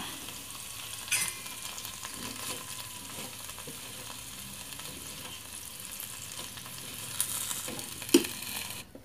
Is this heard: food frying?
yes